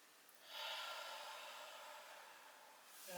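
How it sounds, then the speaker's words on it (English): A slow, deep breath drawn in and let out during a relaxing yoga routine, soft and airy, swelling then fading over a few seconds in a quiet room. "Let's do one or two more slow, deep breaths"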